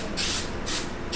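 An aerosol spray can releases three short hissing bursts, close and loud, while paint is sprayed onto a cradle board being prepped for alcohol inks.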